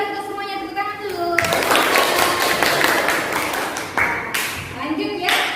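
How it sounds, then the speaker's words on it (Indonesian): A classroom of students breaks into brief clapping, a burst of many hands close by with scattered taps, mixed with children's voices and a teacher speaking before and after. "tepuk tangan dulu"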